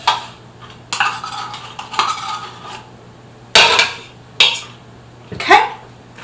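Metal utensil scraping and clinking against a can of tomato paste, several short sharp scrapes and taps with pauses between them, close and fairly loud in a quiet kitchen with a low hum.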